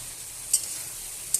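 Potatoes fry in a spiced masala for a fish curry with bori, giving a soft, even sizzle with two brief ticks of a spatula against the pan.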